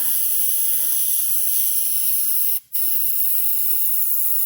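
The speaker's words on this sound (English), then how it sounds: "I will spray some of magenta on the gum area." Steady airbrush hiss of candy paint spraying onto a mini hood, continuous and fairly loud, with one brief pause near the middle before the spray resumes.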